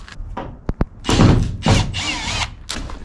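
Power drill backing screws out during a 4x4 7.3 Ford Econoline van build, with a couple of short clicks and then several close, loud whirring bursts of the motor with brief pauses between them.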